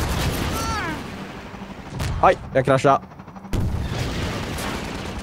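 Several sharp bursts of Half-Life 2 co-op gunfire crack in quick succession mid-clip, loud and close, between brief spoken exclamations.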